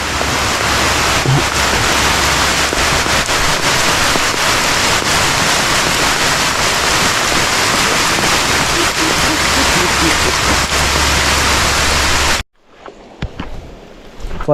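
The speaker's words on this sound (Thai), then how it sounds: "ฝนตกอย่างหนัก" Heavy tropical downpour during a fishing trip by murky flowing water, a loud dense roar of rain that holds steady for about twelve seconds, then cuts out suddenly to near quiet with a few faint sounds.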